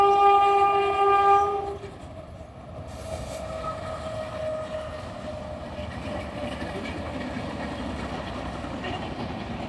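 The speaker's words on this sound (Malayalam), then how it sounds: "അപ്പം ട്രെയിൻ വന്നിട്ടുണ്ടായിരുന്നു" A train passes below a hilltop viewpoint at Pallikkara, a loud horn blast at the start, then a steady rumbling roll of wagons continuing at a distance.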